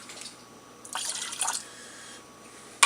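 A splash of orange juice poured into a pot makes a brief, soft liquid gush lasting about half a second, close by and fairly quiet.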